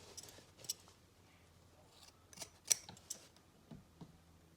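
Scissors snip excess thread from the straps of a handmade sewn sleeper mask, giving a few faint, sparse, close-up cuts with quiet pauses between them.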